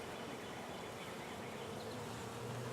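Honey bees buzzing steadily inside an opened hive during a spring hive check, a dense, continuous hum close by with no talk.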